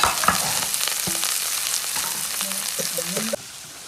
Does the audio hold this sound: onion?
yes